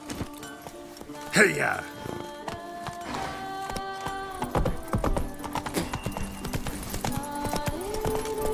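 A horse gallops in the video game The Witcher 3, rhythmic hoofbeats clip-clopping under game music while a voice calls out and speaks over it.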